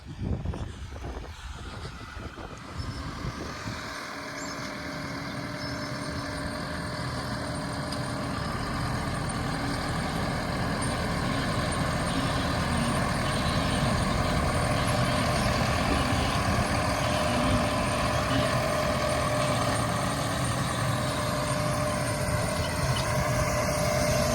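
A farm tractor engine drones steadily from inside the cab while sowing onions in a field, a loud continuous mechanical rumble that builds slightly and holds with no talk.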